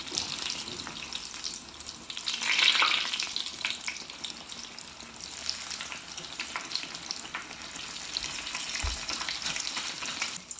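Chile rellenos fry in hot oil in a pan on a stove turned down to medium heat, giving a steady close hiss and crackle with one brief low knock partway through.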